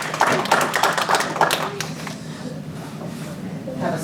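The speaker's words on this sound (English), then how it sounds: "Give Claire a round of applause." A magic show audience applauds a volunteer called on stage, a short burst of close, crisp clapping that quickly fades, leaving quiet room noise with some faint talk.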